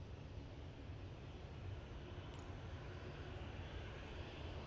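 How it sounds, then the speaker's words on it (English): A Pilatus PC-12 turboprop coming down to land at Manchester Airport gives a steady, broad engine and propeller roar that stays even and fairly distant throughout, with no voices. "this PC12 is coming down right in front of us"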